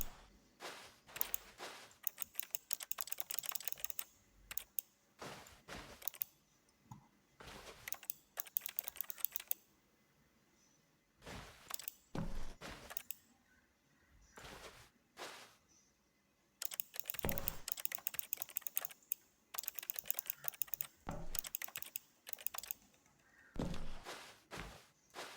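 Computer keyboard typing in rapid bursts of clicking keys, close and crisp, separated by pauses and a few isolated key presses.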